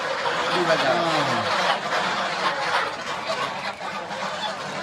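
Several geese on a goose farm in Kushtia honk and cackle noisily close by, their calls overlapping with people talking over a busy background.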